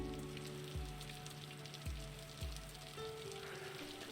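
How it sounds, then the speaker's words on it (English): Steady rain patters in a visual novel game, a soft, even hiss with a few low thuds and a quiet tonal music bed underneath. "So unfortunately, the next day it is still raining."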